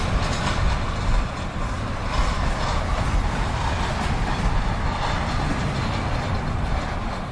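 A long Norfolk Southern freight transfer train, doubling up out of Simpson Yard, rolls past close by with a heavy continuous rumble and faint wheel clatter, no voices.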